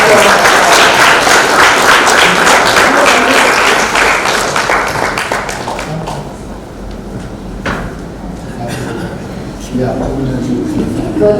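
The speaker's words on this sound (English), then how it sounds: "Let's have a round of applause." An audience at a literary event gives a round of applause for an artist's painting, dense clapping that gradually thins into scattered claps, with a voice talking afterward.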